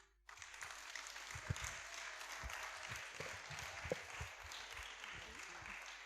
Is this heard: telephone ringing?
no